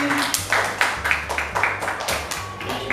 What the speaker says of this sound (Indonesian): Tepuk tangan untuk Vicky.